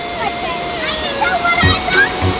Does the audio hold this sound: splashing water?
yes